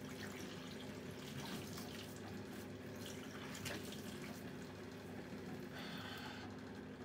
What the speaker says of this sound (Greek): θα βρέξω το πρόσωπό μου πάρα πολύ καλά με κρύο νερό.